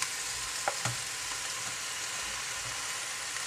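Leek, garlic, pepper, tomato and carrot sizzle steadily in a hot pan, a constant close frying hiss with a couple of brief knocks early on, and no voices.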